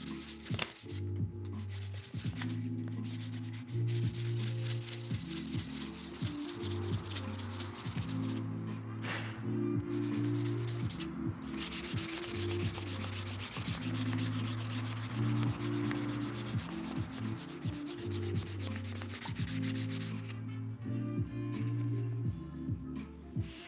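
Wood rubbed and sanded to burnish a custom wooden cutting board or knife, close rhythmic back-and-forth rasping strokes repeating steadily with brief pauses.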